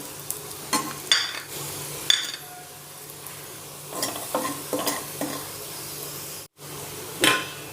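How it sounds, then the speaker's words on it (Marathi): Raisins sizzle in hot ghee while a spoon stirs and scrapes the pan, making intermittent clinks and scraping strokes over a steady soft frying hiss, close up, with no voices. "तूप गरम झालं यामध्ये किसमिस टाकूयात"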